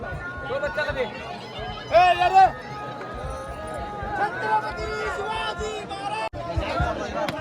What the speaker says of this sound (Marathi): बाजारपेठेमध्ये गर्दी अतिशय मोठ्या प्रमाणात